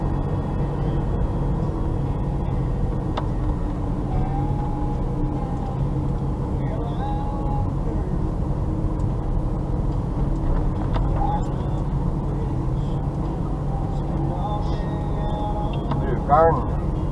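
An old Ford Taunus 20M drives through snow, its steady low engine drone and road rumble continuous throughout while someone talks over it.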